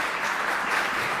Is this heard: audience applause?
yes